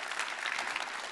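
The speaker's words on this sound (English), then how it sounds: "everyone, give Juanita a big round of applause" A crowd applauds steadily, dense clapping filling the room at an even level throughout.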